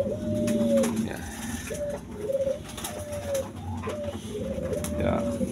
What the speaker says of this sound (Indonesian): burung merpatinya itu berderuk terus di sarang